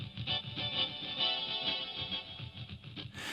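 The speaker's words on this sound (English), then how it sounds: "Master 2 send adds more chorus effect." A KORG Pa700 keyboard track plays a bright sustained chordal phrase with chorus effect applied, its tones shimmering and slightly wavering throughout, ending with a fresh attack.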